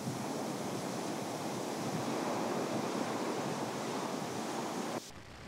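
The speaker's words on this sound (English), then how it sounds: "Water splashing onto it becomes incorporated into the lava, producing a stream of bubbles." Ocean surf crashes against the Kīlauea lava flow on Hawaii's coast, a loud, continuous roar of breaking waves and spray with wind buffeting, cutting off abruptly near the end.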